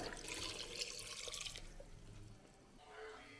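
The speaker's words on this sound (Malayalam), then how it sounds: "ഇനി നമുക്കത് വേവാനുള്ള വെള്ളം ഞാൻ ഇത് നികക്ക വെള്ളം ഒഴിക്കുന്നുണ്ട്" Water splashes and rushes steadily into a vessel for about a second and a half, then trails off into quieter trickling and faint kitchen noise.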